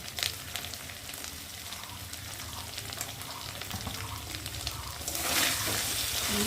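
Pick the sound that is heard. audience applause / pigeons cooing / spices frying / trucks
spices frying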